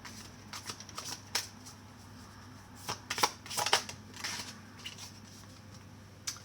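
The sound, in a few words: shuffling a Modern Love tarot card deck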